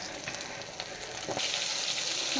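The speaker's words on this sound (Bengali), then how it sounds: "মাছগুলো ভাজা হচ্ছে" Pieces of katla fish fry in a pan with a continuous close sizzle and scattered crackles, the hiss swelling louder about halfway through.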